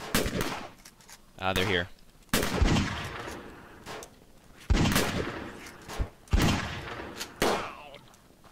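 Gunfire in the zombie video game Fort Zombie comes as sharp, loud bursts of shots and rapid volleys spaced through the stretch, with someone speaking briefly between them.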